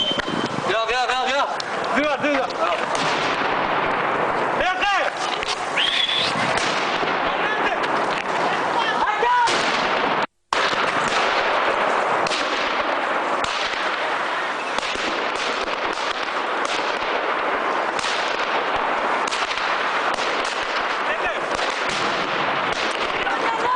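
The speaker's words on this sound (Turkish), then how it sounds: "havai fişek ve molotoflu saldırı düzenlendi." Repeated sharp bangs and crackling bursts of fireworks and molotov cocktails in a street attack, amid a noisy crowd with shouting voices throughout and a brief drop-out partway.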